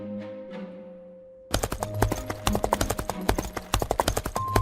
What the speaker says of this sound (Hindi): बाहर आते ही घोड़े बहुत तेजी से भागने लगते हैं।